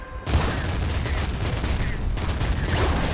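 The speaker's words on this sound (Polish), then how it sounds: "Strzelaj do niego!" Gunfire in the top-down shooter Nuclear Throne: a loud, dense, continuous barrage of rapid shots and crunchy bursts that keeps going with no pause.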